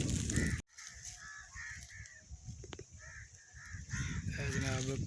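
A large flock of crows caws repeatedly in a village, with harsh calls overlapping against outdoor noise, while someone talks in the foreground.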